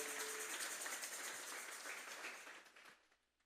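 Congregation in a church service clapping together as an offering to God, a dense wash of applause that fades away over a few seconds.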